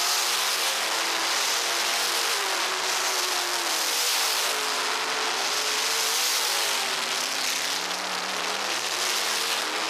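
Race cars roaring around a dirt track during a race, a dense continuous engine drone with rising and falling revs from several cars, loud and unbroken throughout.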